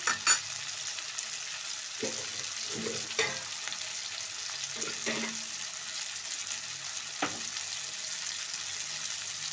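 Onions and onion paste frying with spices in a pan give a continuous soft sizzle, punctuated by a few sharp clinks and scrapes of stirring, heard alone without speech.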